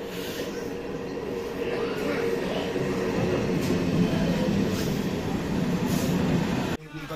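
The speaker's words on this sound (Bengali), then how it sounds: "আমরা শান্তিপুর শিয়ালদা ট্রেনটি ধরছি।" Santipur–Sealdah local train rolling along, a continuous rumbling rattle of the carriage under occasional speech, ending abruptly.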